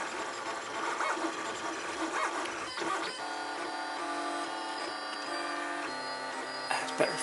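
A 3D printer building a plastic bracket for a duck house, its stepper motors whining and buzzing in steady tonal runs that shift pitch as the head moves, close and alone.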